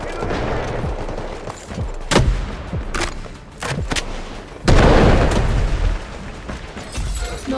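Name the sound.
smoke barrage and gunfire in video game Delta Force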